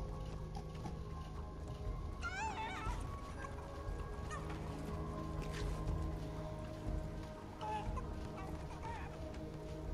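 Fowl in a video game cluck and squawk in brief bursts over a busy background of game noise, with a few sharper honking calls standing out.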